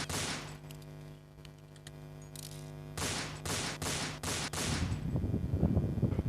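Gunfire in the Roblox game Infection Inc, with a few scattered shots followed by a rapid burst of several sharp bangs and then denser crackling fire, all over background game music.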